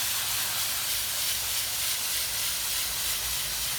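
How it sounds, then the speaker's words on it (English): A water spray rinses an AC coil from the bottom up, giving a steady, loud, close hiss of spraying water that holds evenly throughout without any voices. "I'm going to rinse from the bottom first"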